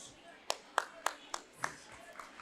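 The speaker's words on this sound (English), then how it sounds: "please give a warm round of applause to Moksha" At a school foundation day stage event, a few sharp, separate hand claps ring out in a loose, slowing rhythm and fade after about a second and a half, fairly faint overall.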